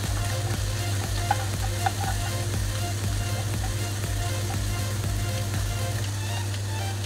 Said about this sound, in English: So give them a good fry.